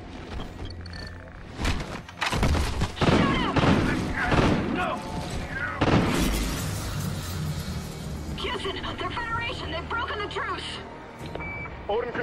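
Gunfire and blasts roar through a Call of Duty Ghosts space-shuttle battle near Odin Control, loud dense bursts and booms layered under continuous game noise, alarms and voices.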